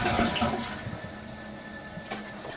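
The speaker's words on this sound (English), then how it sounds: "Flush the toilet." A toilet flushes with a rushing swirl of water that fades into refilling trickles, heard from a short distance without voices.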